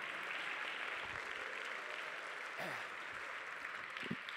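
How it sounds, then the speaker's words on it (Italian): An audience at a closing ceremony on a main stage claps in a steady, even patter, faint and continuous throughout, with a few brief thumps over it. "Un applauso ai ragazzi del MIUR che non mollano niente."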